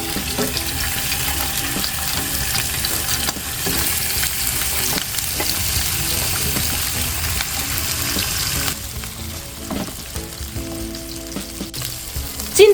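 Golden threadfin bream pan-frying in hot oil, a loud, constant dense sizzle and crackle close by, with a slight drop in intensity near the end and no speech.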